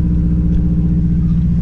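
A 270 hp car cruises at about 30 km/h, giving a steady, loud low engine drone and rumble heard from inside, even and unbroken throughout.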